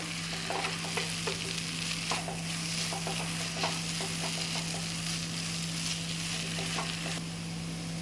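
Grated coconut and raw mango for chutney sizzle in oil in a pan, a steady close frying hiss broken by repeated scraping and stirring strokes, with no talk.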